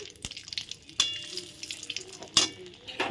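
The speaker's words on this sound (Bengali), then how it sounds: "একই তেলে আমি ফোড়নে দিয়ে দেব দুটো তেজপাতা তিনটে শুকনো লঙ্কা" Bay leaves and dried chillies dropped into hot oil left from frying fish, giving soft sizzling with sharp metallic clinks and spoon scrapes against the pan at a few points, close and fairly quiet.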